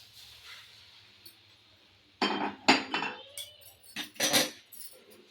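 Salt is stirred through a homemade lemon and turmeric pickle, giving a run of close, loud scraping and clinking bursts of spoon against the container after a quiet opening.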